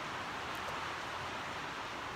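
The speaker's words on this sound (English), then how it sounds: "You can hear that static in the background. It's not static, it's rain." Heavy rain falls outside as a steady, soft, static-like hiss, even and unbroken, faint and distant with no voices.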